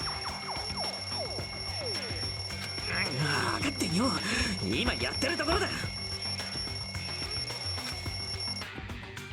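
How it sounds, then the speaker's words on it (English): A wall clock in the Danganronpa 2 video game rings loudly and persistently in rapid metallic bursts while someone talks over it, and the ringing cuts off near the end. "壁にかけてあった時計が急に鳴りやがって"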